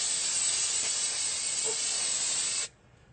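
Carb cleaner sprays from an aerosol can onto the ball joint area of a Nissan D22 lower control arm, a steady, close hiss lasting about two and a half seconds before cutting off sharply.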